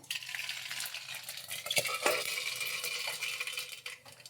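Mustard seeds fry in hot oil with a crackling sizzle, punctuated by a couple of sharp metallic clinks of a spoon against the pan.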